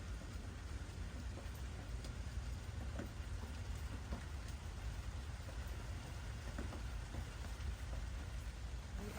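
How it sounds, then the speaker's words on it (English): Steady rain falls in Texas, a continuous even hiss of drops with no pauses, moderately loud throughout with faint background rumble. "8 hours later, guys, and it's still raining here in Texas."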